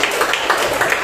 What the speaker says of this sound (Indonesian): Oke, siap. Tepuk tangan.